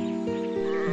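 A sheep bleats on a farm, a clear, wavering, harmonic cry that carries steadily through the whole moment, loud and close, with no talk over it.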